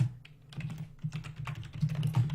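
Someone types on a computer keyboard with quick, irregular clicks and taps over a low steady hum, close to the microphone and fairly quiet.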